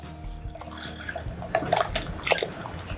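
Thick homemade ragi malt (ambali) pouring and splashing into a vessel in a home kitchen, a few soft liquid glugs and drips, close and fairly quiet.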